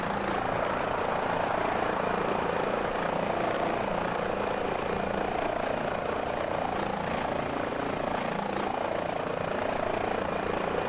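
A rescue helicopter hovers in Microsoft Flight Simulator 2020 over a Seattle car accident scene, its rotor and engine making a steady, loud, continuous drone throughout with faint talk underneath.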